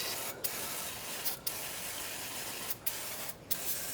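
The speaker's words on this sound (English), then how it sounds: "get a little brake clean. I'm gonna spray all around this" Brake cleaner sprayed from an aerosol can around part of a TYM 2515H tractor during a service, five short hissing bursts close to the microphone over a steady background rush.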